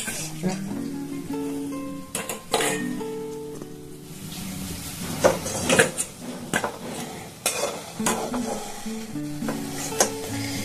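Khaja dough fries in oil while a fork repeatedly stirs it, bright metallic clinks and scrapes against the pan over a soft sizzle, close and irregular, with a voice talking underneath.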